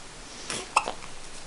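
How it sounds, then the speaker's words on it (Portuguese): A single sharp, close hiccup pops out after a softer breathy sound, with quiet room noise around it. "Soluçando."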